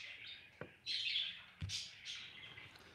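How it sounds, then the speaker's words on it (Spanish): A few faint, high bird chirps sound in quick succession, thin and distant, with a soft tap or two among them. "oye, los pajaritos"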